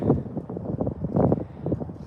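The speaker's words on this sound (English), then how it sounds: "It is windy." Gusty wind buffets an outdoor microphone at a horse ranch, a steady low rumble that swells and eases in irregular surges with no voices.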